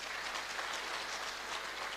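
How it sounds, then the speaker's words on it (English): An audience at a hairdressing occupational certificate launch at Ekurhuleni West TVET College claps continuously, a soft, even wash of applause heard from some distance. "let's give Goldfish a round of applause"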